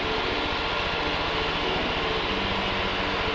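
A Jabiru light aircraft engine at full power during takeoff, a loud continuous buzzing drone with propeller throb heard from inside the cabin.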